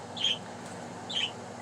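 Pet budgie giving two short, faint chirps spaced about a second apart, thin and high over a quiet room hum.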